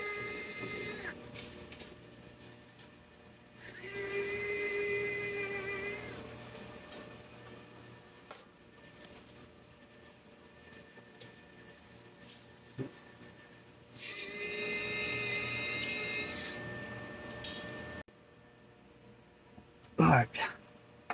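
Power tool backing screws out of an ice machine unit, two separate whirring bursts of a few seconds each with quiet gaps between them, then a sharp clatter near the end.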